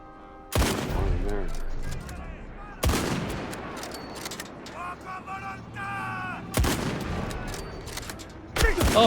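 Rifle shots ring out in the video game Indiana Jones and the Great Circle, four loud sharp cracks spaced a couple of seconds apart, each with a decaying echoing tail and faint game sounds between them.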